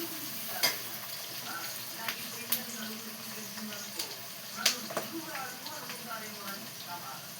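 Onions sizzle with keema in a pan, with soft steady frying beneath sharp clicks and scrapes of stirring. Someone talks over the cooking.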